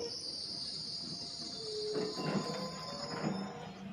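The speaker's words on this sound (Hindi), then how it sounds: "देखिएगा फिर ट्रेन रुकेगी और ड्राइवर साहब उतरेंगे" A train rolls into a railway level crossing and brakes to a halt, its steel wheels squealing and metal grinding over a steady rumble, with no one talking.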